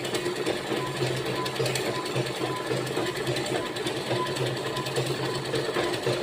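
A sewing machine stitches up to the side cuts of a school uniform dress, running close and steady as a continuous rapid whirring clatter without pause.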